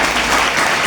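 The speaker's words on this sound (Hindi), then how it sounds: "इस भाई के लिए ताली बजाइए" Loud, dense applause from a church congregation at a Sunday service, steady clapping filling the short moment with no voices over it.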